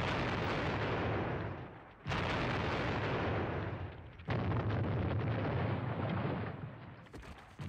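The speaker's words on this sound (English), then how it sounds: "Sounds like Nurbelwerfers. Or maybe just heavy artillery." Heavy Nebelwerfer rocket artillery booms and rumbles in the Squad Battles: Red Victory wargame at Ponyri, three long sustained roaring bursts, loud and dense, with no voices.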